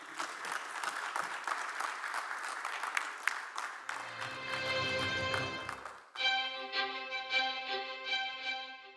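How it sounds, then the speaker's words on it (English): A conference audience at a healthcare event claps steadily for several seconds, a dense close patter of many hands, before bright musical tones take over toward the end. "Big round of applause"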